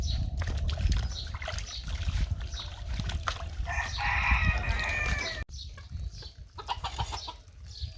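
Chickens and a rooster on a village homestead near a tube well, clucking and calling close by over a loud, busy rumbling background, with some faint voices in the mix.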